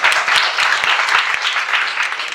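A room of college students clapping together, brisk dense applause that runs without a break at close range, with a few low thumps scattered under it and no talking.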